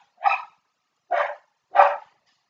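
Barks from a house dog, likely one of two, three sharp barks spaced about a second apart, fairly close and loud with silence between them.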